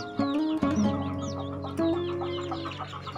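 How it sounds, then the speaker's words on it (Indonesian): A mother hen, a babon in a breeding pen with a week-old brood of crossbred chicks, clucks repeatedly and noisily in a steady run of calls, close by, with chick peeps in the background. "tinggal 1 induk yang masih terus ribut memanggil anaknya"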